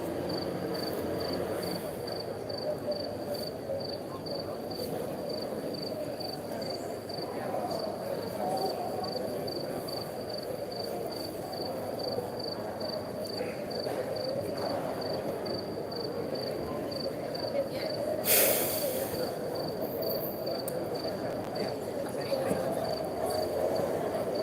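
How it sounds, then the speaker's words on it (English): Crickets chirp in a steady, high, pulsing rhythm throughout, faint and constant beneath a low background hum, with a brief louder noise burst near the end. "I don't know if you can hear the crickets."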